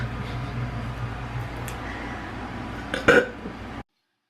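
A single short burp sounds near the end, close and fairly loud, after a stretch of quiet room noise.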